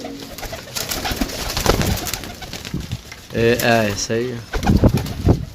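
Pigeons for sale in Sarai Alamgir, Jhelum, Pakistan coo in a throaty, repeated warble, close and clear, partly under a voice talking in Hindi/Urdu.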